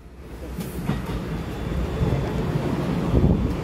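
A silver-green ten-car EMU900 electric multiple unit commuter train departs Taipei station, its rumble and rolling noise building steadily with wind buffeting the microphone, loud and close throughout.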